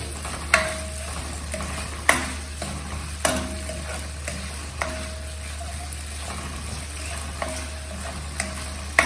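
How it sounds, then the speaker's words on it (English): Chopped tomatoes sauté in a hot pan for tomato pulao, a steady sizzle broken by sharp spoon scrapes and stirring clinks every second or so, close and moderately loud, with a low steady hum underneath. "you throw in 2 big tomatoes, chopped tomatoes, okay, and saute"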